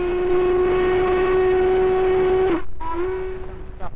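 Norfolk Southern steam locomotive 1218 sounds a long, loud, steady whistle that breaks off abruptly, then resumes briefly and fades, with train rumble underneath.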